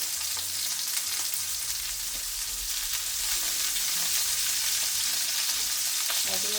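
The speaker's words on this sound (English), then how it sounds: "Just going for some nice color on each side of them, and then we're going to baste them in butter." Steaks searing in a hot pan, a dense, continuous close sizzle with faint low rumbling underneath and a few small clinks near the end, no talking.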